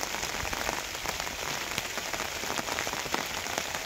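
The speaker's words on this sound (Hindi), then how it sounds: "इस पर बारिश लग रही है जैसे कि अभी आवाज़ सुनते हैं" Steady rain patters densely on the leaves of a mango tree and surrounding surfaces in a village, a continuous hiss of drops with no voices, fairly close and even throughout.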